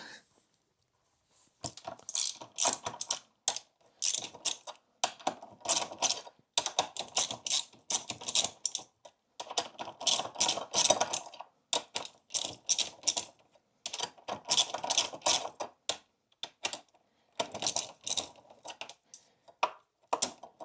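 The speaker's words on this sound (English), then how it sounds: "On the other side, I'm going to loosen these calipers up. For the brake caliper, you need a 12 mil wrench." A 12 mm wrench loosens the brake caliper bolts on the front wheel of a Yamaha Tenere 700 motorcycle, making repeated bursts of quick ratcheting clicks separated by short pauses, close and fairly loud with no talking.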